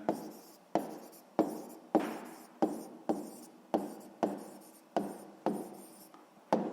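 Pen or pencil writing a math answer on paper, close and clear, a series of about a dozen short scratching strokes in steady rhythm with brief pauses between them.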